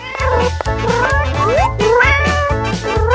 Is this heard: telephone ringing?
no